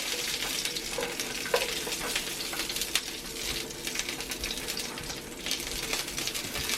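Bratwursts sizzle steadily in a little bacon grease in a cast iron pan, a dense continuous frying hiss with occasional sharper pops, close and fairly loud throughout.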